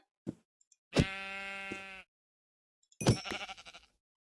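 Two separate Minecraft sheep bleats, the first long and wavering, the second shorter and rougher, with short silences and a faint tap between them.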